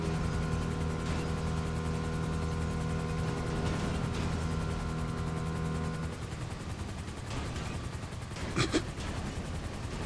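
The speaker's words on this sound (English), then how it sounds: "We throw in a temporary chopper for them." Steady, loud video game helicopter rotor drone with a constant mechanical hum, easing slightly partway through, plus a brief sharp burst near the end.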